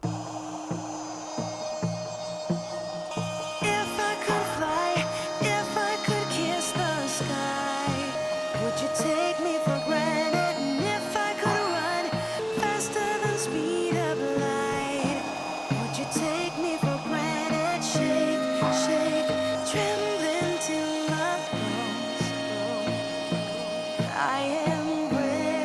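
A non-plunge router cuts a groove into an old salvaged door for a pocket door, a loud continuous high-pitched whine with shifting pitch and gritty cutting texture lasting throughout, no talking.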